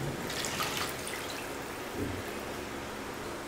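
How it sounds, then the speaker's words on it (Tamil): Water pours steadily from a bowl into a pot for chicken biryani, a continuous splashing rush with small drips, close by and without any talking. "இப்போ தண்ணி சேர்த்துக்கலாம்."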